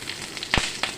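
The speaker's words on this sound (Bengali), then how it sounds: "দেখো ভাজা হয়ে গেছে এখন কাঁচা লঙ্কাটা।" Chopped green chilies fry in hot oil with cumin, giving a soft continuous sizzle with a couple of sharp close crackles and pops over about a second, with no voices.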